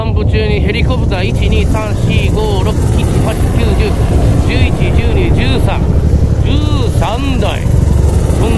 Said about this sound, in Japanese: 散歩中にヘリコプター